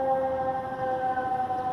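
A steady wailing siren holds a clear tone in the distance, faint and continuous throughout.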